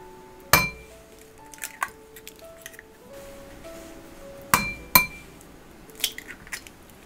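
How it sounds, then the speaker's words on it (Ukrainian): Eggs are cracked one after another into a separate container, giving a few sharp, close taps and clinks of shell against the rim, with quiet gaps and small wet sounds between them. "Вбиваємо їх в окрему ємність."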